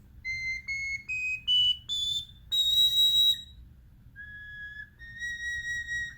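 A tiny four-hole Native American flute plays a series of short, clear, high whistling notes that step up in pitch, then a couple of lower sustained tones, each separated by brief pauses.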